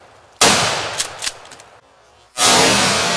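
A Mossberg Shockwave shotgun firing 3-inch shells fires two loud, close blasts about two seconds apart, each bursting abruptly and ringing out into a long echoing decay.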